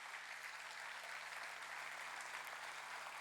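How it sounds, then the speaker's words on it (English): Steady, even applause from a gathered crowd for senior KG schoolchildren, a continuous wash of many hands clapping at moderate distance with no talk over it. "So a big round of applause for my senior KG students."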